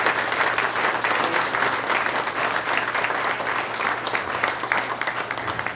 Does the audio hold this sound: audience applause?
yes